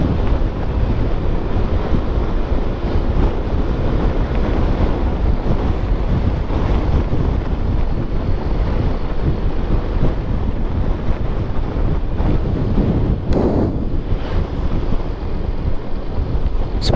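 Strong wind buffets the microphone on a coastal road near a beach, a loud, continuous roaring rumble with no voices.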